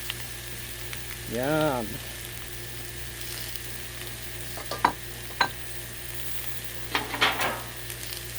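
Smoked sausage sizzles on a flat griddle, in a seafood boil cook, as a steady, hissing fry that runs throughout, with a brief murmured voice and a few sharp clatters of utensils.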